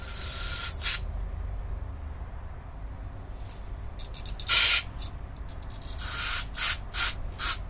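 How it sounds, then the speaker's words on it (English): Aerosol cleaner sprayed into a passage of a slide-style carburetor, several hissing bursts of varying length, close and fairly loud, between quieter rubbing and handling noises. "Spraying directly in this passage to make sure it's clear."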